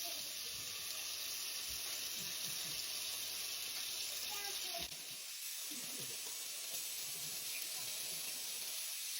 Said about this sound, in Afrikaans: So ek gaan dit nou net in my pannetjie braai.